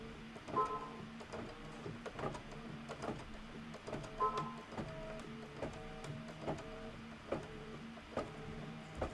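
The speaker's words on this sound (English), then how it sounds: "when you hold it down, it's going to stitch super slowly" A sewing machine stitches slowly while quilting a sew-along project, giving soft, faint, regular mechanical ticks and clunks at a steady unhurried pace throughout.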